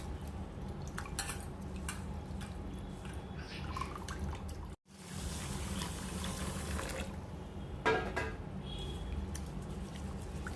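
Rice and lentils are washed in a pot in a home kitchen, with soft dripping and sloshing water, faint clinks of the vessel and one brief pause midway.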